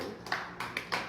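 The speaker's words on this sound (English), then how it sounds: "You can clap louder, Jess." Sparse clapping from a small live audience, a handful of hand claps in loose rhythm over about a second, fairly soft and close.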